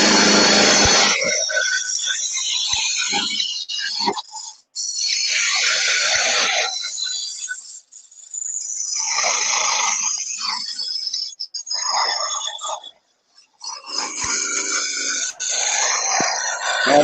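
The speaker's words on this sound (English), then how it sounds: "Using a spindle roughing gouge, rough it down." A spindle roughing gouge scrapes and chatters against wood spinning on a lathe while a table lamp is turned, giving long, loud rasping passes broken by short pauses.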